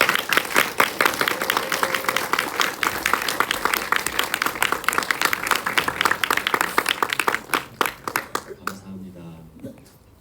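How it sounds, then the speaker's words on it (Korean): Church congregation applause welcoming a pastor at an autumn revival service: loud, busy clapping that thins to a few scattered claps over about nine seconds, then a voice begins speaking. "한기룡 목사님 나오실 때 우리 박수로 환영하도록 하겠습니다"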